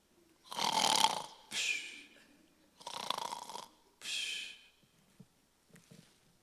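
A man imitates loud snoring, four long rasping snores with pauses between them, followed by a couple of faint short snorts, close and alone without talk.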